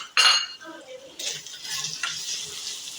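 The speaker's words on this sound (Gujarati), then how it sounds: "હવે આ બધું મિક્સ આપણે કરી દીધું" A spoon clinks against a pot once as ground spices are stirred into split moong dal, then soft sizzling and scraping follow, close and fairly quiet.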